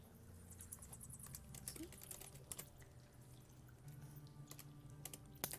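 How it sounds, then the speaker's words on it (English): Rapid clacking keystrokes on a computer keyboard, quiet and close, tapping in uneven bursts with short pauses and a few sharper hits. "Ignore my typing, it's very loud."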